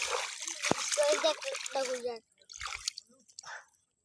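Water splashing and dribbling as something is rinsed by hand, lively for about two seconds and then in short sparse bursts, close by, with people talking over it.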